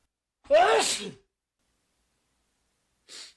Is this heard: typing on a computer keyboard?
no